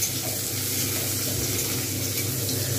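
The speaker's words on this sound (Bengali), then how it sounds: "এইবার এর মধ্যে আমি দিয়ে দেবো পেঁয়াজগুলো। পেঁয়াজগুলো কিন্তু আমি সুন্দরভাবে ভাজবো।" Onions sizzle steadily in hot oil in a pan while a Bhetki fish curry is being cooked. The frying hiss is continuous and even, close to the listener, with no voices.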